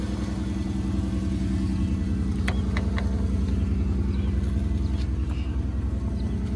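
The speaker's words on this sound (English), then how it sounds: "Sound like you need a muffler or something" A 1993 Toyota Camry idles as it warms up, its engine a steady, loud low rumble with a raw, unmuffled exhaust drone throughout, plus a few faint clicks and clatters on top.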